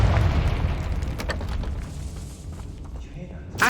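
A Confringo blasting spell explodes in Hogwarts Legacy: a heavy, rumbling boom that fades over a few seconds, followed by a fresh burst at the end, with a spoken incantation over it.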